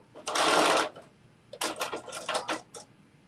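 A sewing machine backstitches a bucket hat seam. One loud burst of under a second comes first, then a quick run of short, choppy stitching pulses, close and with no talk over it.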